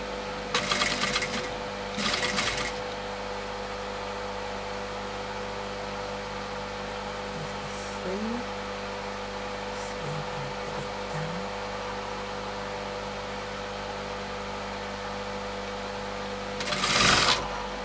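A sewing machine stitching a puffed sleeve with gathered fabric, running in two short close bursts near the start and another near the end, separated by a quiet stretch with faint handling sounds.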